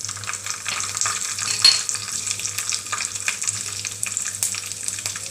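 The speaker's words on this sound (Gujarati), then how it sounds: "જીરું થઈ જાય એટલે આપણે લીલા મરચાં ઉમેરી દઈશું." Green chillies sizzle in hot ghee with cumin seeds, a steady close crackle of frying with light stirring scrapes and occasional small clinks throughout.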